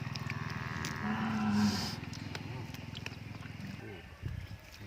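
A short, low cow moo rises briefly behind people talking nearby, with a steady outdoor hum throughout.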